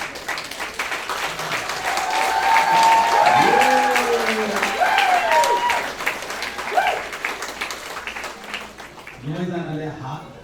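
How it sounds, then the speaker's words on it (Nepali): Guests at a church wedding clap loudly as the bride's veil is lifted, with dense applause swelling early and then tapering, while a voice talks over it and carries on after the clapping fades. "यो समय हामी उहाँले यो घुमको उगार्दै गर्दाखेरि ठुलो ताली बजाएर"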